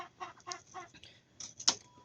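Native chickens on a farm give a few short clucks and squawks, fairly close, with one sharper cry near the end and no talking.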